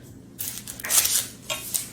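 A sharp kitchen knife chops the ends off onions on a board: a few crisp cutting strikes and clacks, close and clear, with no talking over them.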